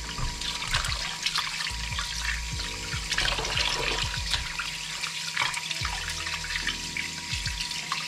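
Tap water runs steadily into a sink while raw meat is washed under it before boiling for sorrel soup, a continuous close splashing with small irregular clinks and handling noises, no talking.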